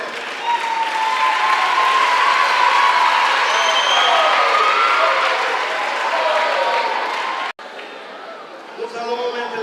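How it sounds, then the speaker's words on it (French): Loud congregational applause for pastors at a thanksgiving church service, a thick continuous clapping with cheers and chatter mixed in, cutting off abruptly near the end and returning quieter with voices. "sous vos applaudissements, s'il vous plaît."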